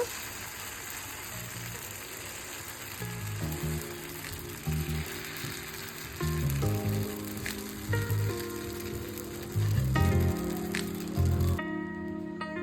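An upma dosa fries in oil on a pan, giving a steady, moderately quiet sizzle that swells now and then, with no speech.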